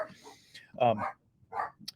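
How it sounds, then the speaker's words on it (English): A few sharp barks from dogs reacting to a doorbell, spaced apart, at moderate distance in a quiet room. "my dogs are barking because the doorbell just got rung."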